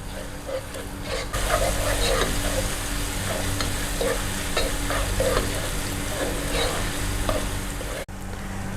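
Garlic-ginger paste sizzles steadily in a hot pan, with repeated scraping stir strokes across the metal in a close, even rhythm for several seconds and no talk.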